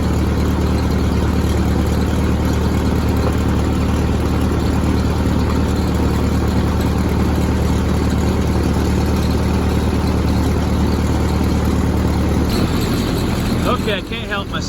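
A tractor engine in a video game idles with a low, constant rumble, then cuts off abruptly near the end as a short burst of other sounds follows.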